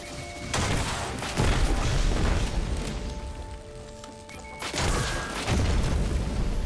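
Rocket and grenade explosions in Destiny 2 boom loudly with game effects, several blasts rolling one into the next over a dense, continuous backdrop of combat noise.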